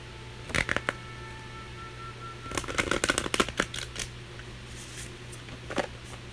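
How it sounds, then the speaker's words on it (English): A deck of cards is shuffled in a few quick papery riffling bursts, close by, with pauses between them over a low steady hum. "I'm going to go ahead and shuffle the deck."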